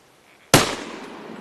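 A hunter's single gunshot at an animal in a forest: one sharp, loud crack after near silence, decaying into a long rolling echo.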